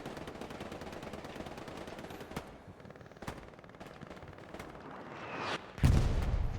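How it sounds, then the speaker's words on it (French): Hell Let Loose battlefield with rapid machine-gun fire and scattered distant shots, then a heavy artillery blast booming near the end, loud rumbling impact with no talking. "l'artillerie encore"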